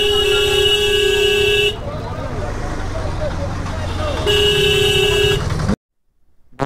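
Vehicle horns blare in traffic on a road near Bolpur and Shantiniketan, two long loud honks separated by a stretch of road noise and voices, before the sound cuts off abruptly.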